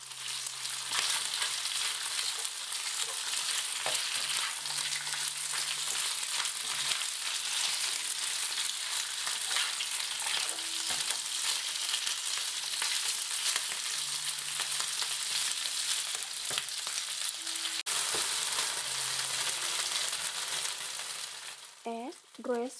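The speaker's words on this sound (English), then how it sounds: "Add the pork mixture and stir fry until the pork mixture is almost cooked." A pork mixture being stir-fried in a pan makes a long, even sizzle with scattered clicks of a utensil against the pan, fading out near the end.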